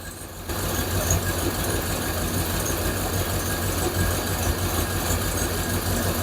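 A Hemi-powered Plymouth Duster sits idling up close, its steady, rumbling low engine note filling the space, with little sign of a rev and no talk.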